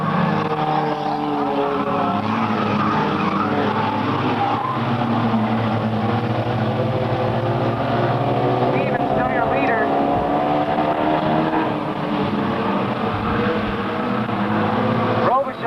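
Stock race cars roaring around an oval track in a 1998 race, a continuous dense engine drone with cars close together, under steady commentator talk.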